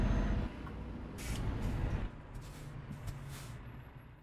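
Truck sounds from Euro Truck Simulator 2 with a modded engine, a low rumbling drone and several sharp hissing air brake releases spread through the stretch, with no talk.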